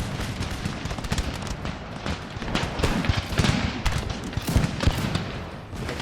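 Musket volleys crackle and pop in steady, overlapping bursts as line infantry fire by rank in an Empire: Total War battle, a dense battlefield clatter at moderate loudness with no pauses.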